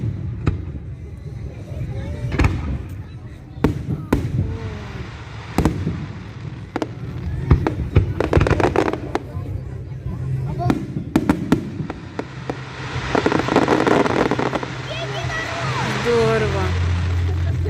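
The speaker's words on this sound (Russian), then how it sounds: "Вот такой вот салют в честь открытия курортного сезона 2021." An evening fireworks display opening the 2021 resort season in Gelendzhik, with sharp bangs and crackling bursts at irregular intervals, some distant and some louder, while people talk nearby.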